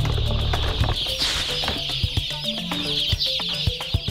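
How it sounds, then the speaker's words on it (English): Newly hatched chicks on a chicken farm in Shanxi, China: a dense, continuous chorus of high, shrill cheeping fills the space, with a low mechanical hum at the start and scattered close clicks and knocks. "These chicks are transported to the chicken farm within an hour from the moment they are hatched."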